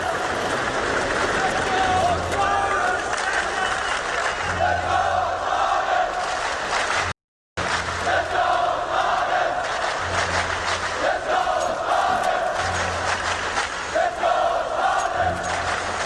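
Esports crowd at a CS:GO PGL tournament cheering for Astralis during a comeback, a steady loud roar of many voices with chanting swells, broken by a brief cut midway.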